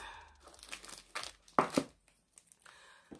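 Nail art foil packaging is handled, giving several short crinkling and tearing bursts of plastic, close and moderately loud, with brief pauses between them and no talking.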